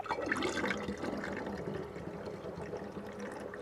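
Homemade kombucha vinegar poured into a bottle with an airtight stopper inside a converted camper van, a close steady gurgling trickle of liquid, quiet and continuous, with no talk.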